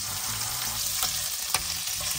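Pork belly and shrimp sizzle steadily in a hot pan for bánh xèo, close and continuous, with a couple of sharper pops and stirring scrapes.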